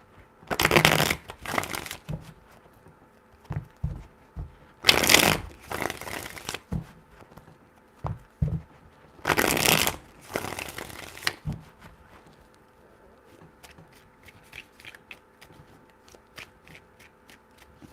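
Tarot cards are shuffled in three quick riffling bursts, each a crisp flurry of snapping cards about a second or two long, separated by pauses with faint handling clicks and light taps afterward, close and without speech.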